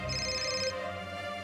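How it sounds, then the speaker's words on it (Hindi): A phone ringtone chimes steadily for about a second as a bright electronic tone, then a lower ring continues, close and clear. "संपदा का कॉल आ रहा है।"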